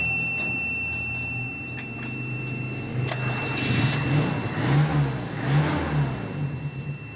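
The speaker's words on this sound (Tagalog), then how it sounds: "Ngayon na umaandar na ulit yung owner type jeep natin" An owner-type jeep engine cranks and catches, then runs with a rough, rising rumble that swells and dips as it revs, close and fairly loud.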